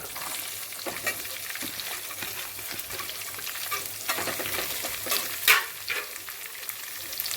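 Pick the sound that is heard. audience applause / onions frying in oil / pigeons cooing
onions frying in oil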